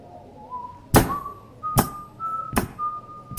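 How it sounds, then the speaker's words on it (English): A man whistles a slow, wavering old Scottish tune, broken by three heavy thuds spaced about a second apart. "What is that he's whistling?"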